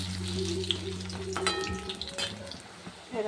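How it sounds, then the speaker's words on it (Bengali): Bora fritters frying in hot oil give a soft, steady sizzle, with a few brief clinks and tonal sounds partway through. No one speaks. "এই দেখো বড়াটা ভাজা হয়ে গেছে"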